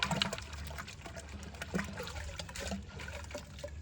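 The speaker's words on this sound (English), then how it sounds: "Rinse, clean, get all the iron out of there." Water sloshes and trickles while rinsing iron particulates out of a container, soft close liquid swishing and dribbling with no voices.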